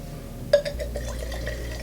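Champagne from a freshly opened bottle poured into a glass at a birthday celebration, a brief splashing onset followed by a steady fizzing fill, close and fairly quiet.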